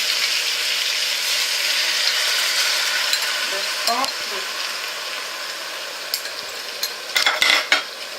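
Soft scraping and clinking of a spoon stirring veal paupiettes in a saucepan over a steady sizzle, with a few sharp utensil taps near the end.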